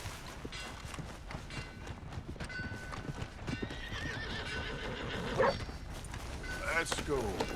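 Rhythmic clip-clopping hooves with a horse whinnying and snorting, sound effects from the game Red Dead Redemption 2, and a voice talking over the top.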